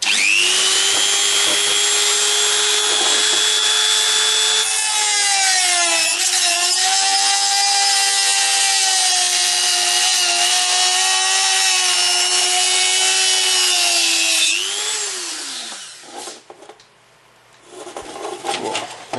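Power tool cutting through a PlayStation 2's plastic case, a loud, close, sustained whining tone that shifts pitch as the blade works, then winds down into quieter scraping.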